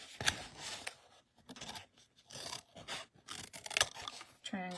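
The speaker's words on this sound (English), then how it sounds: "we're going to cut a little triangle here and cut a triangle there." Scissors snip small triangles into paper card flaps for a handmade valentine mailbox, a series of close, crisp cuts and rustles, with a louder snip near the end.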